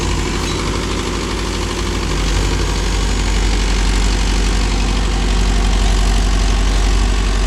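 A Mahindra Yuvo Tech Plus 585 4WD shuttle-gear tractor engine runs steadily at close range, a loud continuous low diesel drone with vibration and no speech, while the tractor works a 5-point cultivator.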